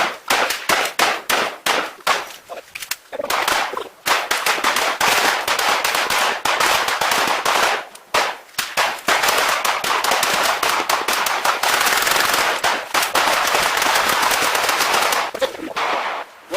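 A firing squad pours sustained gunfire into cabinetry on a shooting range: rapid, loud bursts of overlapping shots, near and continuous, with brief gaps between volleys and no talk over the shooting.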